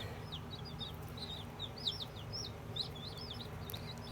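Baby chicks that arrived by mail peep in quick, faint repeated chirps over a steady background hum, several calls overlapping in small clusters.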